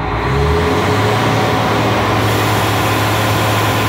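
A Mercedes Axor truck engine idles high with the engine brake engaged to warm up the viscous fan clutch, a loud, steady, close diesel drone that holds constant throughout.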